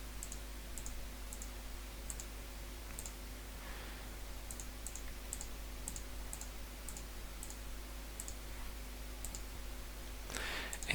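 Computer mouse clicking while working in the Unity editor: faint, evenly spaced sharp clicks over a steady electrical hum, with no voice.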